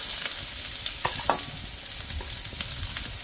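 Chopped onion and garlic sizzle in hot cooking oil for pork adobo, a steady close hiss broken by a few sharp clicks of stirring.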